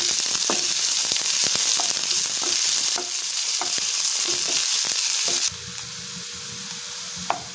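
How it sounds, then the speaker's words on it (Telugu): Onion pieces fry in a pan for an egg roast curry, giving a steady loud sizzle with scattered crackles and pops; the sizzle shifts partway through and drops slightly as stirring continues, no voices. "తర్వాత ఆనియన్ ముక్కలు ఫ్రై చేసుకోవాలి"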